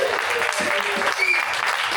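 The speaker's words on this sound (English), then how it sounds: "Give her a round of applause, Claire." An audience at a comedy show claps steadily in a brief, even burst of applause, moderately loud, with a voice speaking faintly underneath.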